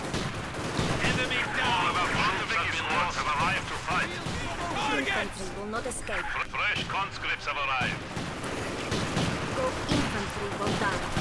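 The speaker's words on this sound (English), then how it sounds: "My men are pinned because of these machine guns." Machine gun fire with artillery and explosions in the video game Company of Heroes 2, a dense, continuous barrage of rapid bursts and booms throughout, loud and chaotic.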